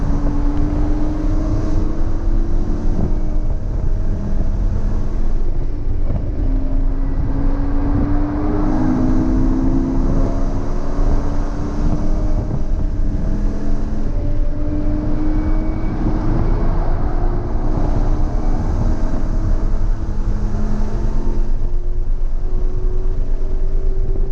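A Porsche 991.2 GT3 RS on hot laps at Lime Rock, its engine loud and close with constant roaring, rising and falling tones as it revs up and shifts through gears, wind noise underneath.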